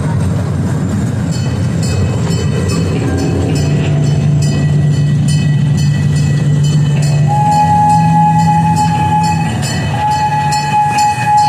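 A vintage railroad train at Old Tucson running along the track, a steady rumble and clatter under long whistle blasts that shift pitch, loud and close throughout.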